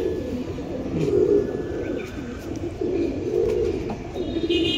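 Pigeons held in a loft give soft, low cooing calls in several repeated phrases, close by over steady background noise.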